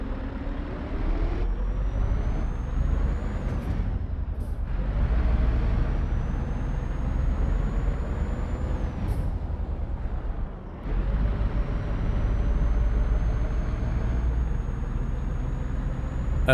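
Engine of a new Scania truck in a trucking video game, a steady low drone with a rising whine that climbs through gears and resets, broken by short hissing releases of the air brakes.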